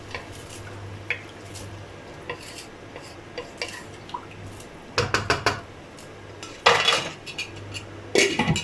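Rice and water stirred together in a cooking pot for cumin rice, giving scattered soft scrapes and knocks that build into louder clustered clatters of spoon against metal, with no talking.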